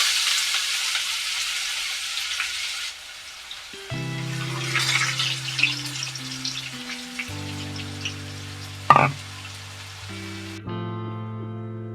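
Onions and bay leaf frying in a pan for chicken curry, a steady close sizzle with a brief louder crackle near the end while music plays over it.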